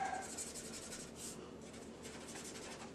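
A pencil scratches and rubs across paper while a caricature's eyes are darkened, giving a faint, continuous scraping with small strokes.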